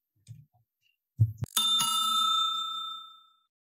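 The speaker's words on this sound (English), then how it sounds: "Well, that was the double bell." A double bell ring marking the end of a shift before the front doors are locked, heard as two separate strikes in close succession with a bright metallic ring that sustains and fades out over about a second and a half, with no talking.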